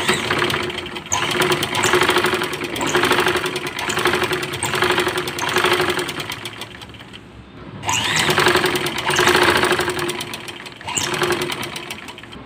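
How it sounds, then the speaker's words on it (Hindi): Sewing machine stitching a pocket onto a salwar, running in steady rhythmic bursts of fast needle chatter with a short pause midway before resuming, loud and close with no voices. "और यहाँ पर आप सिलाई लगा दें।"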